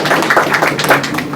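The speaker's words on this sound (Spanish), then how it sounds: "Fuerte aplauso para Florencia también." Short burst of dense audience applause at a startup and technology business seminar, steady rapid clapping from a crowd with no voices over it.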